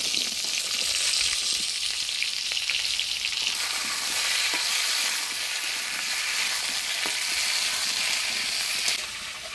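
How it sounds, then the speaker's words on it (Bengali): Potato and eggplant fry in oil tempered with cumin seed while being stirred, a loud continuous sizzle with scattered scraping ticks from the spoon, easing slightly near the end; no voices. "এবার কাটে রাখা বেগুন দিয়ে দিই"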